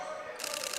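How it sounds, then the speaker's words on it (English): Camera shutter clicks at a college basketball game, SFU versus VIU, a rapid burst of bright mechanical snaps over steady arena hum and distant crowd noise. "Apologies for the shutter noise there."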